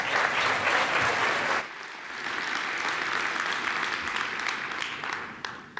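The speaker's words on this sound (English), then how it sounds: "A big round of applause, please." An audience at a PyCon 2014 conference talk applauds loudly, a dense sustained clapping that eases off slightly midway and fades toward the end.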